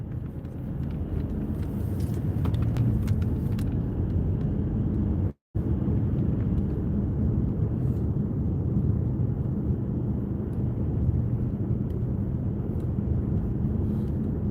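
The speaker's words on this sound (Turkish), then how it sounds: "şimdi arabada kullanıyorum" Steady low rumble of a car being driven, heard from inside the cabin, loud and continuous with a brief dropout partway through.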